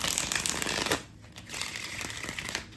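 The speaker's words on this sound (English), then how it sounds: "Beautiful riffle shuffle" Lightweight tarot cards get a riffle shuffle, giving a close, crisp burst of rapid fluttering card flicks that eases off, followed by softer rustling and a final light snap.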